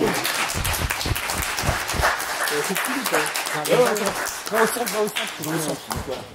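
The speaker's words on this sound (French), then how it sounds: "On l'applaudit parce que le costume est super beau" A live audience applauds a Star Wars costume at a fan event, with scattered, uneven clapping running throughout while people talk over it.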